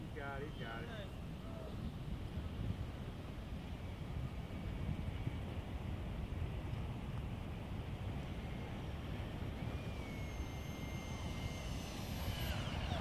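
An HSD Diamond Skysword model jet coming in to land, its turbine a steady distant roar with wind buffeting, a whining whistle rising near the end, and voices talking briefly at the start.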